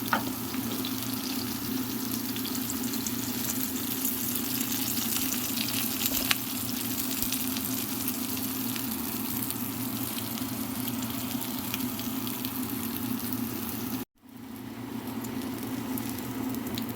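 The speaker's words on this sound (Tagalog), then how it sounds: "Bahagyan natin siyang i-prituhin" Eggplant slices fry in a pan with a steady, close sizzle that holds evenly for a long stretch, then cuts off abruptly and resumes a little quieter.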